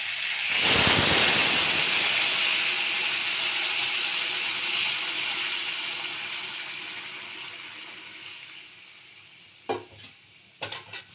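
Water poured into a hot pan of spiced catla fish curry with taro and potato bursts into a loud hissing sizzle that slowly fades over several seconds, followed by a few brief clatters near the end.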